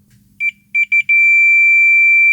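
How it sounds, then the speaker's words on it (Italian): A multimeter's continuity tester beeps while probing a Saunier Duval boiler circuit board: a few short electronic chirps, then one steady high tone that holds loud and clear. "si può sentire il bip"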